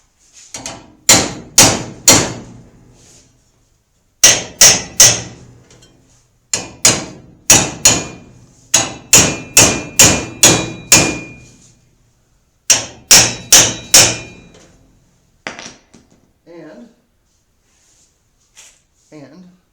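A hammer strikes the canopy base of a full-scale B-36 Peacemaker build in a workshop, loud sharp blows in quick bursts of three to five with short pauses, fading to a few lighter taps at the end.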